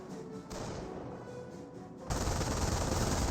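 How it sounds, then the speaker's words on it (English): An MG42 machine gun firing in Company of Heroes, a dense rattling burst that jumps sharply louder partway through and then keeps up as steady heavy gunfire alongside other battle noise. "it looks like the MG42 does find this rifle squad"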